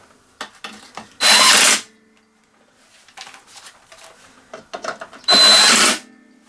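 Power tool bursts tightening a 3/8 bolt on a Briggs & Stratton 350 pull cord assembly: two loud, sustained whirring runs of about half a second each, separated by quieter handling clicks and knocks.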